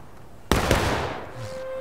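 A Confederate musket volley in War of Rights fires as one sharp, loud crack with ragged follow-up shots, and the echo trails away afterward.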